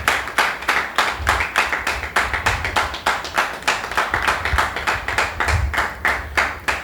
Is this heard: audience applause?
yes